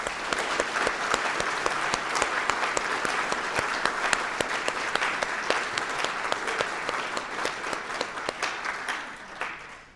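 A luncheon crowd gives a sustained round of applause for award recipients, with steady, dense clapping from many hands at moderate distance that fades at the end.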